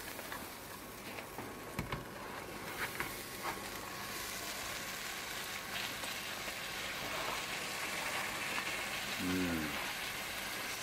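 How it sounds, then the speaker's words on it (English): Buttered bread frying for a bacon sandwich gives a steady, close crackling sizzle that runs throughout, with a few small knocks early on and a brief voice near the end. "Sizzly."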